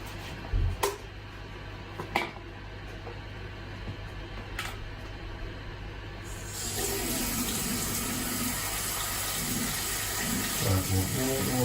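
Tap water running into a sink in a home kitchen while making soda bread, starting after a few clicks and knocks and then rushing steadily and fairly loudly to the end.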